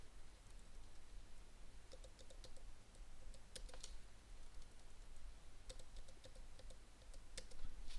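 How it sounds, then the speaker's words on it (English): Keys clatter on a computer keyboard in quick irregular bursts, including repeated backspace presses, close and fairly quiet over a steady low hum. "I'm doing backspace."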